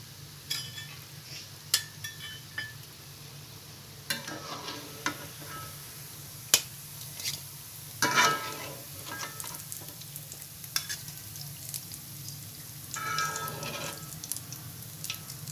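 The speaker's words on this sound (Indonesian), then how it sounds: "Kita lanjutkan menggoreng sisanya." Onde-onde or kue ketawa dough balls fry in hot oil with a steady, soft sizzle, broken by occasional light clinks and scrapes of stirring.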